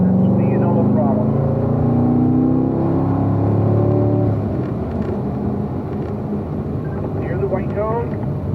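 A Corvette accelerates on a race track. Its engine pitch climbs steadily as it pulls away loud and close, with an instructor talking over it and a second rising engine note near the end.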